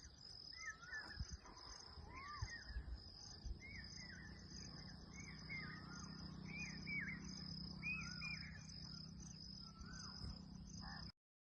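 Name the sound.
call of the pawsha bird (hawk-cuckoo)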